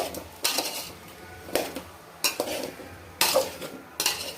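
Sweet pumpkin curry with jaggery and ghee being stirred in a pot, with a spoon scraping and knocking against the metal in irregular strokes, fairly close and clear.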